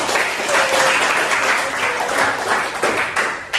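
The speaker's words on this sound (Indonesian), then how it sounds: "sekali lagi berikan aplaus bagi kita semua" A classroom of students breaks into dense, sustained applause, steady clapping filling the room for a few seconds before tapering slightly.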